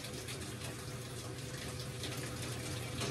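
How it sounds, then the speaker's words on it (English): Water gushing steadily into the well of a dishwashing machine in a dish room, a dense continuous rushing flow, close and constant with no pauses. "So I'm gonna fill until the water line reaches halfway on this little well here."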